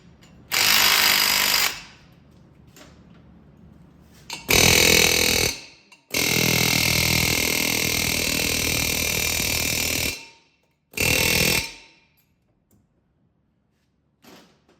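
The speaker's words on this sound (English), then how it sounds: "I'm hitting top and bottom to make the rotor rock back and forth" Bursts of loud mechanical grinding and rattling from a power tool tightening bolts on a 2006 Chevy Silverado front wheel hub, one long run and several short ones, separated by quiet pauses with faint clanks of hammering the brake rotor.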